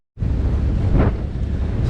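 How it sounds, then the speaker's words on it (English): Strong wind buffets the microphone aboard a ferry crossing Sydney Harbour, a loud steady roar with gusty swells and no voices. "It is very windy out here."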